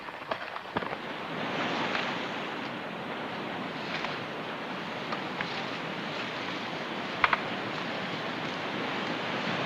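Surf rolling onto a beach, a continuous broad wash of breaking waves with a few sharper splashes, steady and fairly close.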